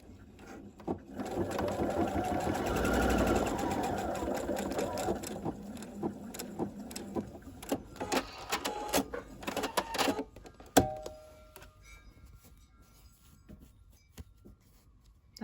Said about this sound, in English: then we sew.